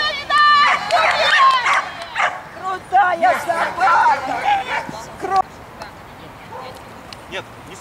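A dog barks and yips excitedly at a dog puller competition in Odessa, sharp barks bunched close together at first and then fading out, over the babble of a crowd and people talking.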